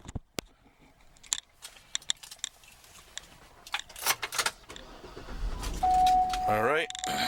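Someone gets into a white 2008 GMC Yukon Denali AWD and starts it: sharp clunks and key jangling, then a steady chime before the engine cranks and catches into a rumbling idle, with a voice talking over parts.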